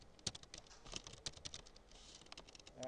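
Fast, light clicks from a computer keyboard in uneven bursts of keystrokes, quiet and close with no speech over them.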